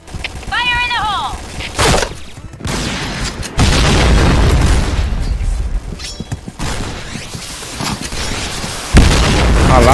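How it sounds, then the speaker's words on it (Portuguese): Grenade blasts in a Portuguese-language shooter video game: several heavy booms land in quick succession across the scene, loud and close, mixed with gunfire and game effects while a player talks over them. "a granada caiu aqui no meu pé"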